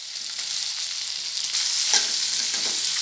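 Chopped ridge gourd and tomato sautéing in hot oil, a loud, close, continuous sizzle that swells as the vegetables settle in the pan, with no talk.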